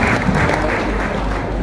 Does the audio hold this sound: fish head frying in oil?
no